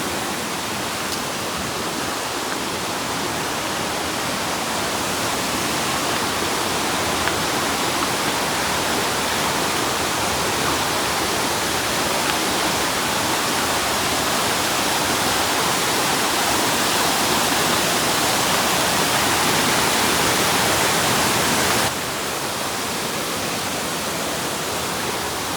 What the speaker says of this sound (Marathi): खतरनाक आवाज यायला लागले पाण्याचा भाई.